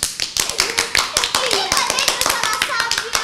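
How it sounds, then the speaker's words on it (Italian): Children clap for a book in an Italian TV program, with sharp, uneven hand claps and taps close by, clustered in quick bursts, while young voices chatter underneath. "Facciamo un applauso a questo libro?"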